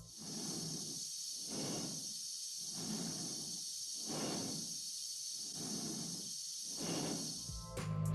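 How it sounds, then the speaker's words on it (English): Astronaut breathing inside a spacesuit helmet in 2001: A Space Odyssey, slow regular inhales and exhales, about six close hissing breaths over a constant high-pitched hum, with no other sound or speech. "the sound of the astronaut's own breathing inside the helmet"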